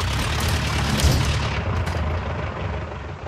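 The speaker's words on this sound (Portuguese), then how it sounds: "canhões antiaéreos estão no céu." Anti-aircraft cannon fire in Far Cry 6 rolls out as a dense, continuous barrage of booming blasts, with a heavier thump about a second in and no talking.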